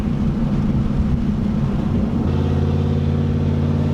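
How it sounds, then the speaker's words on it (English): A Chevrolet Camaro Z28 with a bigger cam drones steadily under heavy load, its engine note loud and constant, deepening to a lower, even rumble partway through. "putting the engine under quite a load, and it's doing fine"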